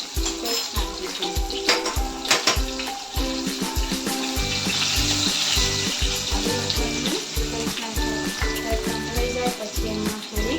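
Hing, curry leaves, green chillies and ginger-garlic paste frying in hot oil, a steady busy sizzle with clinks and scrapes of stirring throughout, close and fairly loud, no talking.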